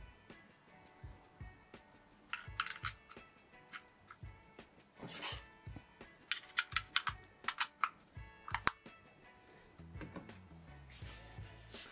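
Typing on an iiglo MKX metal-bodied silent wireless office keyboard: soft, muted key taps in uneven bursts and short runs, close and quiet, with a few heavier strokes near the end and no talking.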